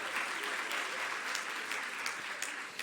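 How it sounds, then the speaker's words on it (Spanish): An audience at a talk on being a good teacher applauds for Julie, steady and dense clapping from a full room that carries on without a break. "quiero que le demos otro fuerte aplauso a Julie"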